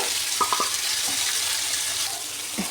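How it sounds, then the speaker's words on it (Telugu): Chicken pieces fry in oil in a pan with a steady, close sizzle and hiss, plus a few soft knocks of stirring. "ఇలా ఫ్రై అయితే వర్క్ చేసుకొని ఫ్రై చేసుకుందాం బాగా ఫ్రై అయ్యండి"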